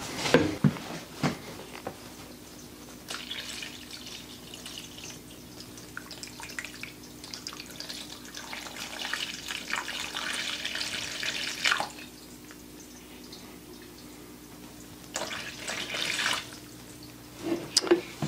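Water is poured into a seed starting tray for an indoor vegetable garden, giving a steady trickling splash that runs several seconds, pauses, then returns in shorter pours, close and fairly quiet.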